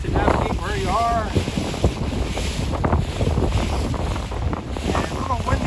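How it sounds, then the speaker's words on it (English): Gusty wind rumbles across a microphone on a boat on the Intracoastal Waterway, a steady loud low roar with fluctuating gusts. A voice is briefly heard near the start. "And a little windy today out here."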